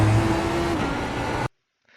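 Lamborghini Huracan GT3 race car engine at Virginia International Raceway in iRacing, droning loudly at steady high revs with a shift in pitch midway, then cutting off abruptly to near silence.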